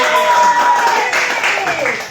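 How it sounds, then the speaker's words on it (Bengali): Applause from an audience at a raffle draw, a dense, steady patter of many hands lasting about two seconds, with a voice speaking over it. "বড় হাততালি হবে"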